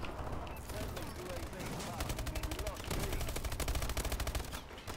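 Rapid game gunfire in Call of Duty: Advanced Warfare, bursts of automatic shots crackling in a steady rhythm through the clip, loud and near, with a voice talking beneath the shooting.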